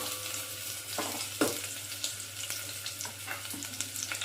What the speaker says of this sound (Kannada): ಎರಡು ನಿಮಿಷ ಇದು ಈರುಳ್ಳಿ ಫ್ರೈ ಆಗ್ತಿದೆ